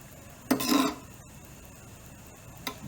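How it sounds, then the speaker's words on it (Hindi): Red lentil dal topped with tadka is stirred in a pot, producing two short scraping strokes against the metal, the first longer and louder, the second a brief scrape near the end. "हल्का सा इसे मिक्स करेंगे।"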